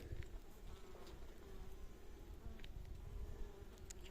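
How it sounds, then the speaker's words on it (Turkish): Honeybees from a varroa-mite-infested colony buzz steadily around a hive during a hive change, a faint, continuous drone with no voices. "Gördüğünüz üzere varavalı bir arı. Varavası üzerinde geziyor."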